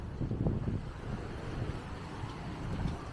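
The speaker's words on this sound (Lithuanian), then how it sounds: "Vėjuota labai." Strong wind buffeting the microphone on a cold beach at Kemer, Turkey, with a rough sea beyond, a constant low roar and rumble with no other clear sounds.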